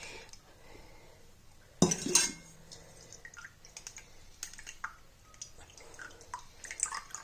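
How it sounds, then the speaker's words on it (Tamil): Boiled herbal hair dye liquid being strained in a kitchen: a sharp clink of a utensil or vessel, then quiet intermittent trickles and drips close by. "ஹேர் டைய வடிகட்டி எடுத்துக்கிறேன் நான்"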